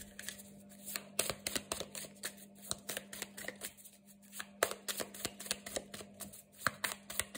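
Tarot or oracle cards being shuffled by hand, a quiet run of irregular soft riffling and slapping bursts over a faint steady hum, with no talk.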